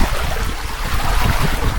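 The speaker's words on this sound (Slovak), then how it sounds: "A už sa pomaly dvíhajú vlny." Wind and rising sea waves rush around a sailboat under sail near the Sea of Marmara, a loud, continuous wash of water and gusting wind noise close to the microphone.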